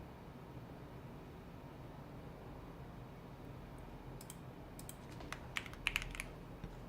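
Computer keyboard typing, faint and sparse, a few quick light key taps over a steady low hiss of room noise.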